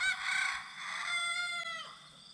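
Young rooster attempting a crow outdoors, one short, wavering cock-a-doodle that trails off unevenly, fairly close and clear with no voices.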